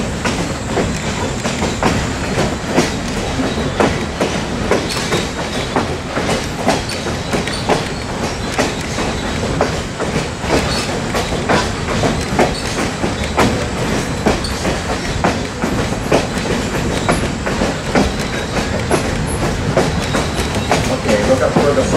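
Riding aboard the Essex Steam Train, a steady loud rumble of railroad cars rolling over rails with rhythmic clickety-clack and occasional wheel squeal runs throughout.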